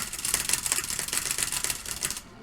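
Keys on a mechanical keyboard are mashed rapidly while speeding through missions in the PC version of de Blob, giving a dense burst of sharp clacking that runs steadily and then stops abruptly.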